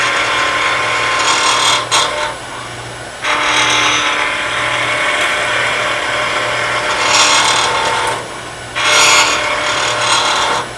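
Rasping and rubbing strokes work a wooden pen blank down to rough shape. The scraping comes in steady bursts with short pauses between them, close and fairly loud, with a low mechanical hum underneath.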